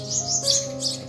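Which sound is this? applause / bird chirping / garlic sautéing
bird chirping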